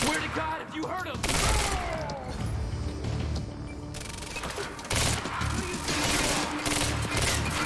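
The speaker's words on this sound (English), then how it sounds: "God, this gun is like so inaccurate." Continuous video game gunfire from the game Quantum Break, with dense bursts of shots and crashing impacts layered under the game soundtrack and effects, loud and sustained.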